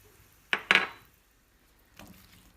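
A spoon or spatula scrapes and knocks in a cooking pan while onions and salt are stirred: two quick close clatters, then a softer knock after a pause, with no talking.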